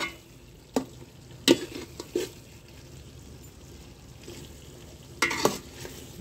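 Mutton kosha curry fries in a pan at home, a soft steady sizzle broken by a few sharp scrapes and clatters of a spoon stirring against the pan.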